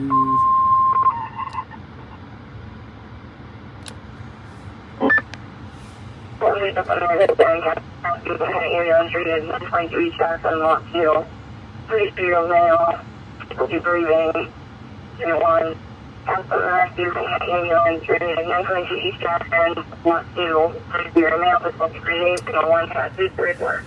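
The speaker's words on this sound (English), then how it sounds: "the radio you're hearing is the Uniden BCD 536 HP" Uniden BCD536HP scanner radio playing inside a car, carrying bursts of clipped radio voice traffic that start and stop repeatedly over a steady low road and engine hum.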